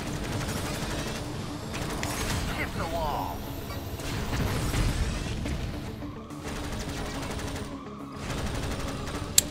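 Rapid automatic gunfire from the Jak X: Combat Racing video game on PS4, sustained bursts and booms blended with engine roar and game effects, with a voice talking over parts of it.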